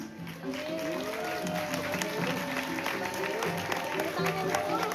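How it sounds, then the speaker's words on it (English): An audience at the Taman Safari elephant show in Bali applauds with steady clapping, mixed with crowd noise and a guitar combo playing, while a voice speaks over it. "so please big applause."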